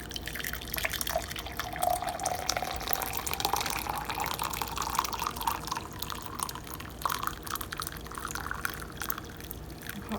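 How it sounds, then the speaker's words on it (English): Hot water poured into a mug for a homemade sea salt drink, a steady trickling, dripping stream running close by for about ten seconds with no talking. "I got my mug here, and I'm gonna boil the hot water."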